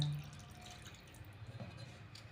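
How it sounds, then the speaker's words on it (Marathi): Water trickles softly into a bowl of mango cake batter, a faint, brief liquid pour and drip, close by and quiet. "आता हे पाणी आपण ह्याच्यामध्ये ओतून घेऊया"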